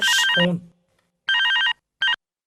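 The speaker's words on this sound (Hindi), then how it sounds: "फोन बज रहा है" A telephone ringtone chimes in three electronic bursts: a long loud one, then after a pause a second long burst and a short final one, each a warbling repeated melodic tone with nothing else around it.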